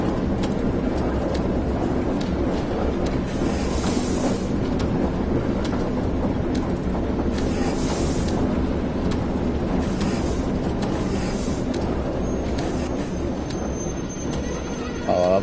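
A train rolling along the Tees Valley Line in Train Sim World, with steady loud rumbling and wheel noise running throughout, periodic hissing bursts from braking, and no pauses.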